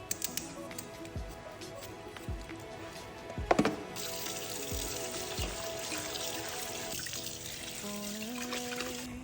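A whole chicken, feet removed, is rinsed under a running kitchen tap, water splashing and trickling at close range with a few knocks and clatters against the sink.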